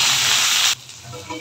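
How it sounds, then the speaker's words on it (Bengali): Freshly washed, cut eggplant hits hot oil with onion and garlic, a loud, hissing burst of sizzle close up that cuts off abruptly halfway through, leaving a quieter frying murmur. "বেগুনগুলো একটু ভাজা ভাজা হয়ে গেছে।"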